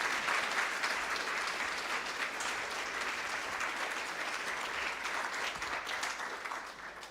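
An audience at a school board meeting gives congratulatory applause for students, sustained crowd clapping that stays thick and even for about seven seconds before thinning slightly at the end.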